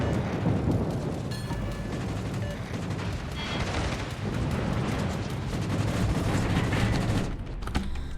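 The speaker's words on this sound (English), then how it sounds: "Rockets again." Rockets firing in a naval battle game, a dense continuous barrage of rapid blasts and crackling impacts, loud and close with no letup.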